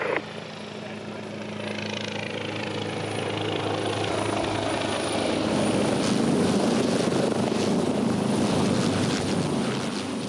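A rescue helicopter airlifts a patient from a beach rescue scene, its rotor and engine making a steady, loud whirring roar that swells gradually and stays sustained throughout.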